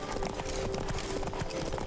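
Roach, the horse in The Witcher 3: Wild Hunt's Blood and Wine expansion, trots along in a steady clip-clop of hooves. The footfalls are fairly close and moderately quiet against a soft outdoor ambience.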